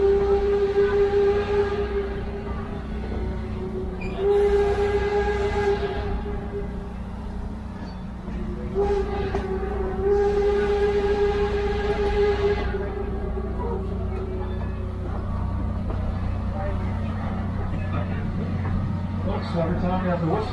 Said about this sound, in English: So every time you have the whistle on the train, there's a different meaning.